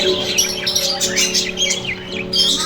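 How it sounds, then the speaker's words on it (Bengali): Several birds chirp and tweet in quick, bright bursts inside an ashram over a steady low electrical hum. "দেখ আকাশি কালারের পাখিটা"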